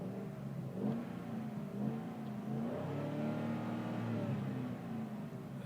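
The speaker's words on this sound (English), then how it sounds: "fire it up, and let's hear that engine noise" A 2001 Dodge Durango SUV engine idles and revs up, a steady mid-pitched motor hum rising and falling in pitch, fairly quiet, with no voices.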